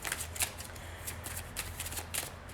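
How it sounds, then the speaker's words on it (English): A tarot deck is shuffled by hand close up, giving soft, steady papery riffles with a few sharper flicks of the cards, quiet and alone. "I am shuffling through a tarot deck"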